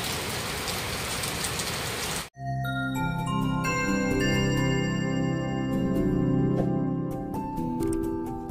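Steady rain falls on a rainy morning in Garcia Hernandez, Bohol, during a tropical depression: a dense hiss for about two seconds that cuts off sharply, followed by music.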